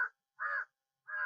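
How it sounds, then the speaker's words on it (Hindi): Three harsh crow caws spaced evenly apart, loud and fairly close, with silence between each call. "कौवा बोल रहा है,"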